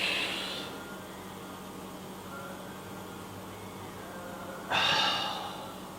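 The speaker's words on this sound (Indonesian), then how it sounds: "Pegang perut, nafas dalam." A deep breathing exercise for lung training, done with a hand on the belly: two long, airy breaths up close, one at the start and one near the end, separated by a pause over a steady low hum.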